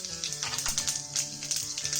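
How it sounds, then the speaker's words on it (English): Dried red chillies and black mustard seeds sizzle and pop in hot oil for a Kerala-style tadka, a close, crackling fry with scattered spattering bursts over a steady hiss. "To this, I'm adding in dried red chillies"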